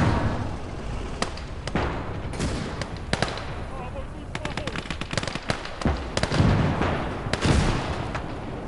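Rapid gunfire and heavy explosions in a winter-war battle in the Call to Arms: Gates of Hell – Ostfront video game, with sharp repeated shots and booming blasts over a dense, continuous din, and voices talking underneath.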